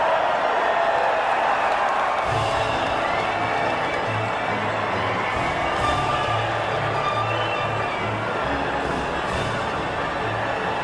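Dense, continuous roar of a large crowd cheering at a Formula 1 podium celebration in the F1 2019 racing game, a steady wall of noise with a low tonal hum running underneath throughout.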